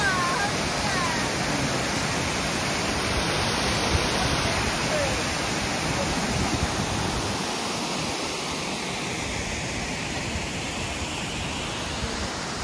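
Inglis Falls near Toronto pours in a steady, full-bodied roar of falling water, heard close and continuous throughout with no pauses.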